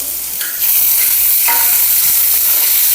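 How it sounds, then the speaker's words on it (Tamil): Tomatoes go into a frying pan for a Tamil breakfast upma and are stirred, giving a steady sizzle with scraping spoon strokes, close and fairly loud, with no talking. "இப்போ லாஸ்ட்டாக வந்து தக்காளி கூட சேர்த்துக்கலாம்."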